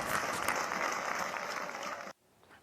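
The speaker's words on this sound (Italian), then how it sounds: "hanno esposto uno striscione e poi un lungo applauso per rendere omaggio al piccolo tifoso" Long applause from a stadium crowd of football fans paying tribute, a dense, steady clapping wash that runs loud for about two seconds, then cuts abruptly to near silence.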